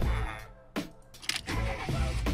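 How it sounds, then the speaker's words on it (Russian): A Minecraft car engine cranks and turns over, with a burst of mechanical noise and a steady running rumble afterward, close and fairly loud. "вставляем ключ зажигания и заводим машину"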